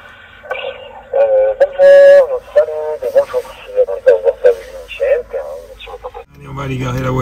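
A car radio on a Carpuride W708 dashboard screen jumps between stations, bursts of music and speech cutting in and out in quick succession, loud and close inside the vehicle.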